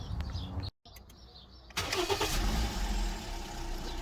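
A Toyota Vitz (Yaris) engine is started after a belt tensioner fix, the starter cranking briefly after a short silence before the engine catches and settles into a steady, fairly loud idle, close by with no talk.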